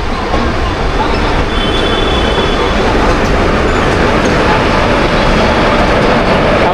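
A train crossing near Ghaziabad on the Delhi line gives a loud, steady rumble of wheels and carriages that holds close and unbroken throughout, mixed with road traffic noise.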